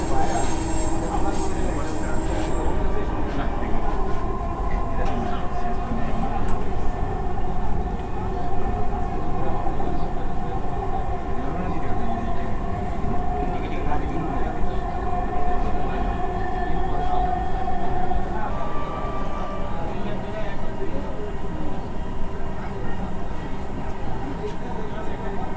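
Dhaka metro rail train runs toward Pallabi station, heard from inside the carriage: a loud, constant rumble and tonal motor whine with a pitch shift late on, while voices speak faintly underneath.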